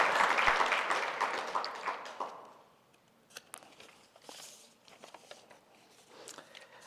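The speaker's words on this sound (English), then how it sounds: "It's okay, we can clap for them." Audience applause at a networking event for Black businesses, a dense wash of clapping strongest at the start that thins out and fades to scattered claps within a few seconds.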